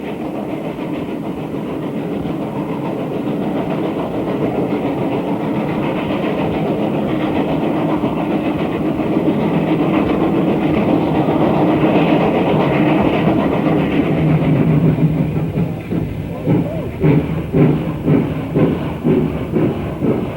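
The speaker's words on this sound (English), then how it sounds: "Several consolidations are shown hauling freight and passenger trains in and out of town" Rumbling steam locomotive freight train passing nearby with a steady heavy roar and hiss, giving way to rhythmic clickety-clack of wheels over rail joints toward the end.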